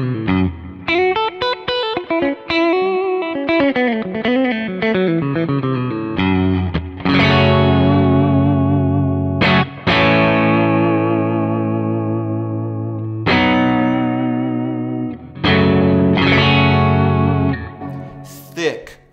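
Electric guitar through a Kemper 69 Band Verb amp profile with delay, playing quick picked runs and then ringing, sustained chords with a deep, full low end, loud and close, with no talk over it.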